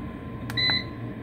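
An Ivation food dehydrator gives two short electronic beeps close by as its timer is set, the second beep longer, over a low steady hum.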